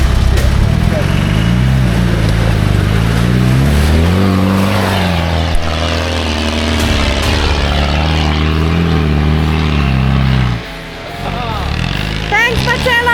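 A 4x4 vehicle engine labors steadily in second gear as it climbs, a loud, low droning growl that shifts in pitch, with voices talking over it.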